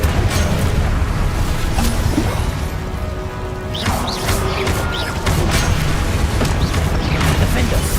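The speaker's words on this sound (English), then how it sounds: "Incendio." The Incendio fire spell is cast in Hogwarts Legacy amid combat. Dense, loud fiery whooshes, booms and crashes fill the scene, easing briefly at mid-point before surging again, with spoken voices mixed in.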